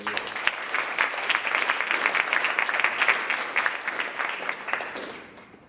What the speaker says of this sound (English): can we give a round of applause again for this table right here?